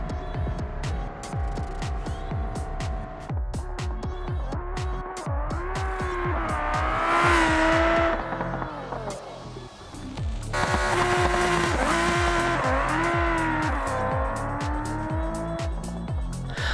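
A supercar in BeamNG makes a drag racing pass, its engine revving hard through a rapid run of gear changes. Pitch climbs, drops and climbs again, loud and close, with no talking.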